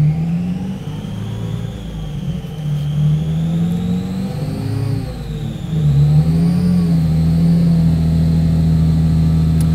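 Car engine under AEM Infinity tuning holds a steady loud drone at full throttle, its pitch dipping and climbing as revs change, with no talk over it.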